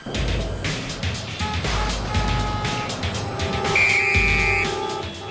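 Mexico City street traffic, a steady close rumble of engines and passing cars with a few faint horn-like tones rising above the continuous din.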